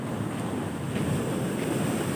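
High-tide waves surge against the shore at Ujong Blang, Lhokseumawe, a steady broadband roar of surf blended with gusting wind buffeting the microphone, continuous and fairly loud with no distinct individual breaks.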